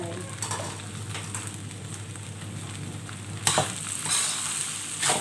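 Shrimp and egg sizzle steadily in a hot pan while Thai fried rice is cooked, with utensil clatter and scraping bursts near the end as the ingredients are stirred.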